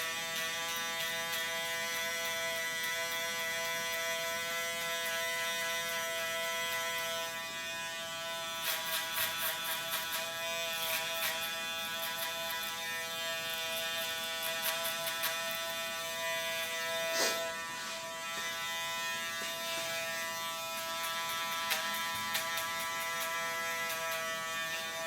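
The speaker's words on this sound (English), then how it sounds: "I'm going to go back in with a different trimmer and just flick back up here" Electric hair trimmer buzzing steadily while cutting a fade haircut, a close, continuous motor hum with brief shifts in pitch and loudness as the blades touch and lift from the hair.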